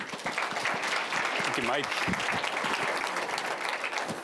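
A round of applause for a speaker at a conference on race, ethnicity and identity: sustained, dense clapping from an audience, with someone briefly speaking near the mic over it.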